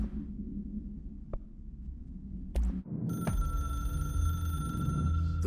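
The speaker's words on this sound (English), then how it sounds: "Why is Alan Wake on the hotline, by the way" A hotline telephone rings in the Control video game with the AWE expansion: a loud, bright electronic bell with sustained harmonic tones, entering after low ambient rumble and a couple of sharp clicks.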